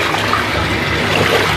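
A bathtub faucet runs water steadily into a tub full of bubbles, a loud, continuous broadband rush with no pauses, close by and alone.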